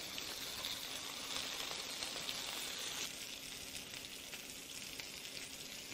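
Moreton Bay bugs sit shell side down in a grill pan over medium-high heat, giving a soft, even sizzle. The faint crackling hiss continues steadily with no talking.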